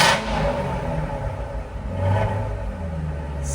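A warmed-up 2015 Corvette Z06 engine idles below 1,000 RPM with a deep, steady rumble, then swells briefly in a short rev before settling back, close and loud, with no talking.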